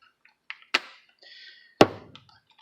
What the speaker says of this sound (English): it makes this noise when you open and close the door